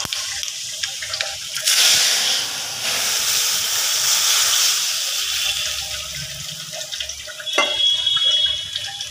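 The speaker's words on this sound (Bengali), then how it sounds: "এবার আমি ডালটাকে ঢেলে দেবো।" Sour lentil dal goes into a hot pan of tempered mustard seeds and chillies with a loud, sustained hiss and steamy sizzle that lasts several seconds before easing off.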